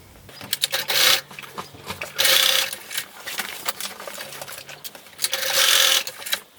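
Sewing machine stitching basting seams across the tabs on a beach bag: three loud bursts of fast mechanical whirring and needle chatter, separated by quieter handling and fabric rustling, with no speech.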